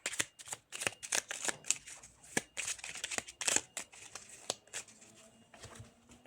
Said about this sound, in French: Allez, on va se prendre une petite carte du Magic Soul.